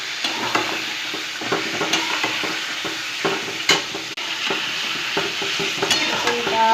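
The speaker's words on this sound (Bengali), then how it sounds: "নাড়াচাড়া করে মশলাটা দিয়ে দেবো।" Mutton frying in a pan with spices as a spoon stirs through it: continuous sizzling with irregular scraping and clinking strokes against the pan, close and steady, with no talking.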